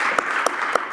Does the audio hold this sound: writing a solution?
no